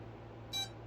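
A single short, high electronic beep from the radio-control electronics of an FMS PA-18 Super Cub model plane sounds once over a low steady hum.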